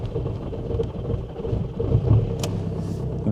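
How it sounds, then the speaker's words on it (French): A cold car engine, with its number 3 cylinder running poorly when cold, cranks and catches into a rough, low rumbling idle, with a short sharp burst near the end; no one talks. "Démarrage."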